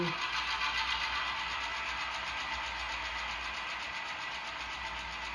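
Simulated diesel locomotive engine held in throttle notch 2 on a model railroad switching layout, giving a continuous even engine drone with steady low rumble and a slight fade in the last seconds.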